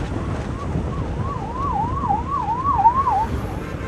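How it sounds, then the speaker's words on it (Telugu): An ambulance siren wails in traffic in Hyderabad, heard from a KTM RC 200 motorcycle. The steady up-and-down tone rises clearly over a constant rush of road and wind noise, moderately close, with no talking. "అంబులెన్స్ వస్తుంది"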